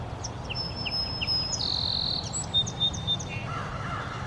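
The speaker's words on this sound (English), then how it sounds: "The birds are singing, springtime is definitely here" In a spring orchard where an apple tree is being pruned, several birds sing and chirp in short bright calls and whistled phrases over a faint outdoor hush, fairly quiet and a little distant.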